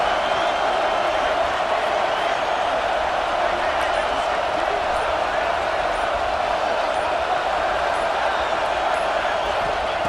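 A steady, dense stadium crowd roars in the EA College Football 26 video game during a USC vs. Notre Dame matchup, a constant wash of noise with commentary over it.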